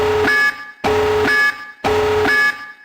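Video game electronic alarm beeping in three loud, evenly spaced bursts, each a buzzy tone with a pitch shift, separated by short silences.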